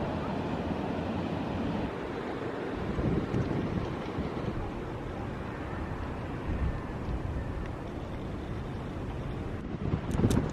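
Big ocean surf, waves around 10 to 15 feet, rolls in at Newquay beach in Cornwall as a steady, dense roar, with wind buffeting the microphone throughout.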